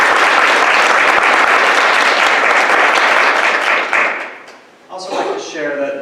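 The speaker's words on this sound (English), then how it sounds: "a round of applause for all classified staff" Loud, dense applause from a room at a school board meeting, honoring classified staff, holds steady for about four seconds, then fades out before a voice resumes talking.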